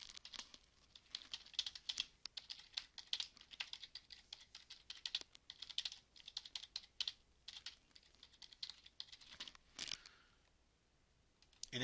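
Quiet, rapid tapping on a computer keyboard as a workshop title is typed, keystrokes coming in irregular bursts with short pauses, ending in a brief lull and a final few clicks.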